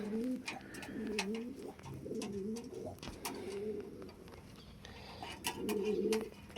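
Pigeons of bred lines coo softly and repeatedly in a cage, low throaty calls overlapping nearby, with faint clicks and rustling around them.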